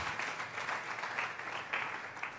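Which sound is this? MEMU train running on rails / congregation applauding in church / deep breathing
congregation applauding in church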